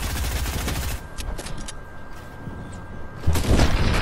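In a Fortnite match, two players fire on an opponent together: loud rapid bursts of gunfire open the moment, thin to scattered shots, then a heavy volley returns at the end, with no talking.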